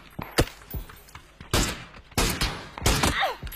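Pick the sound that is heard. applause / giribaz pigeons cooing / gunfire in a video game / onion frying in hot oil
gunfire in a video game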